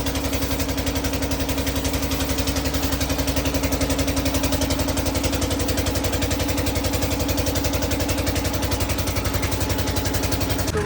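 A Massey 7250 tractor's diesel engine idles steadily, a loud, even mechanical chugging with a regular pulse that holds without change throughout.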